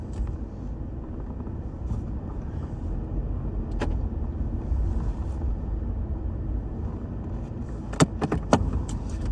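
Steady low rumble of a car being driven, heard from inside the cabin, with faint road and wind noise and a few sharp clicks or jangles near the end.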